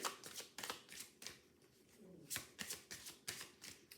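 Tarot cards being shuffled by hand, close and crisp, in repeated riffling bursts roughly every half second with brief pauses between.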